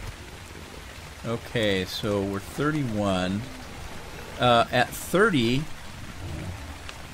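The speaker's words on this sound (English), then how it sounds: "And it's raining on me." Rain falls in the video game ARK Survival Evolved as a steady, even hiss of drops on surfaces under someone talking over it.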